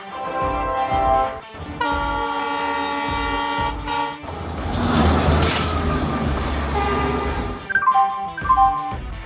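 The Vande Bharat Express train horn sounds in long tonal blasts as it departs a platform, then rumbling rail noise as the train moves, followed by more horn toots near the end.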